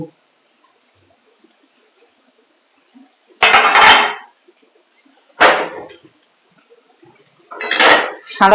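Chhana scraped in an iron kadai, heard as three separate loud metallic scraping bursts, each about a second long, separated by near silence, close and harsh.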